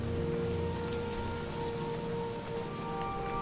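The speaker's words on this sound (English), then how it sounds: "that rain is very loud" Heavy, steady rain in a video game pours down loudly and evenly throughout, a dense unbroken hiss with no voices.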